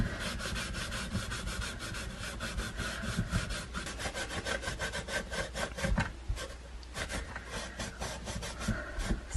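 Wood stain is rubbed onto wood by hand, producing quick repeated back-and-forth scrubbing strokes, close and fairly loud, in a steady rhythm that briefly pauses and resumes, with no voices over it.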